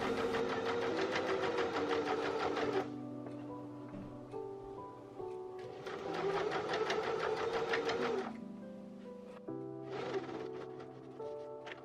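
A sewing machine runs basting stitches across the top of a dress sleeve, in three bursts of rapid, even mechanical chatter separated by short pauses with a low hum between them.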